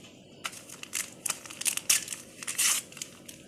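Someone crinkles and crushes a plastic bag of baking powder close by, giving several sharp, irregular rustling bursts with brief pauses between them and no talking.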